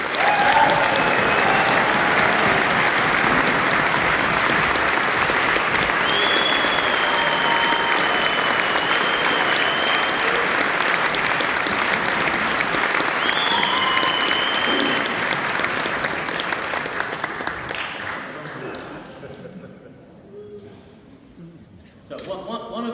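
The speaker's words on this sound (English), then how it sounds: "can we have a big round of applause for" Sustained crowd applause for volunteers at a sea shanty festival in Harwich, with a few cheers and whistles mixed in, holding steady before tapering off toward the end.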